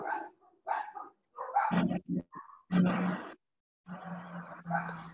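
Dogs bark in a home patio: loud, close barks and yips in irregular bursts with brief gaps between them.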